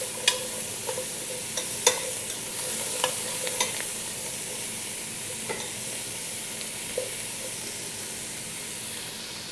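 Vegetables are stirred in oil in a pan, a steady close sizzle with scattered spoon taps and scrapes over the broad hiss.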